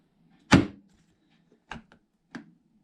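A plywood cabinet door on a soft-close concealed hinge swings shut with one clear, close knock, followed by two softer clicks as it settles, in an otherwise quiet room.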